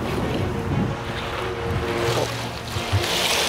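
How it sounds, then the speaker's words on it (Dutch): Wind blows steadily inside an ice experience cool box, a loud, constant rushing roar with no break, while a voice speaks briefly over it. "Daar is de wind. Daar voel je het."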